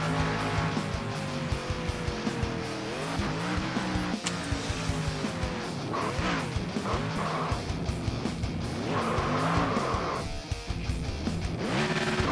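A race car in a Talladega Nights racing game spins through a reverse burnout, tires squealing in long wavering screeches over a loud revving engine, continuous and close throughout.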